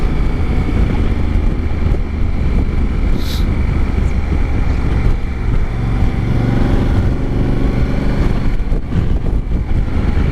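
A 2019 Honda Africa Twin DCT motorcycle rides at steady speed, its engine droning low and constant under heavy wind buffeting, with a brief higher whine partway through.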